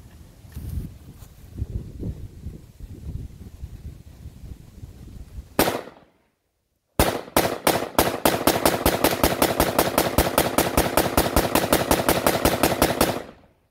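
Rapid gunfire into a dead tree being felled: after quieter rustling and a loud shot, a long fast string of sharp close shots fires in an even rhythm, then stops abruptly.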